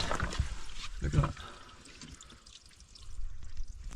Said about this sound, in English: More dripping.